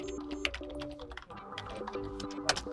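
Rapid typing on the keyboard of a GIGABYTE G7 laptop: a close, steady run of light plastic key clicks with uneven rhythm and occasional sharper taps, with no talking over it.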